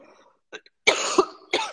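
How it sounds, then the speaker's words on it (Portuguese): A few sharp coughs close to the microphone, two strong bursts after softer throat noises, with brief silence between them. "eu tô com uma tosse terrível"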